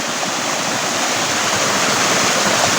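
Parayaruvi waterfall, stream water plunging forcefully down over rocks, a loud, dense, unbroken roar close by with no other sounds.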